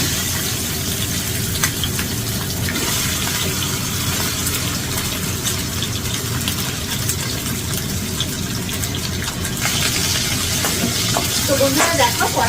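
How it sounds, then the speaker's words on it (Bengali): Katla fish heads fry in hot oil in a pan, a steady, dense sizzle and bubbling that holds at an even loudness for the whole stretch, with no voices over it. "তো এখানে আমি 2-3টে করে মাছ আগে ভেজে নেব।"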